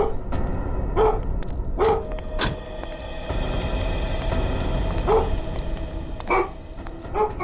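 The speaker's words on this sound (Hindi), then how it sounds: "एक आदमी कुत्ते को लेकर वैन की तरफ जा रहा है" A dog being led toward a parked van by a man, giving several short, sharp barks or yips spaced out over steady background noise, fairly close and distinct, with no talking.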